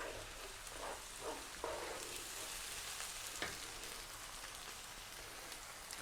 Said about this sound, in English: we're now going to add in that can of tomatoes that have been crushed